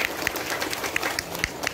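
An audience at an Islamic sermon gathering claps briefly, a dense patter of many hands that stays fairly even and moderately loud.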